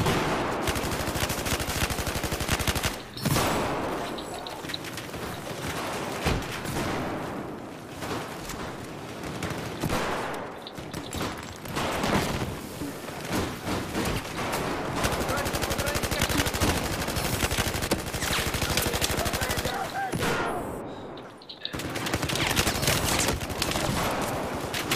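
Sustained machine gun fire in a Battlefield 4 team deathmatch, with dense, loud continuous bursts broken by a few brief pauses, close and dominant for the whole stretch.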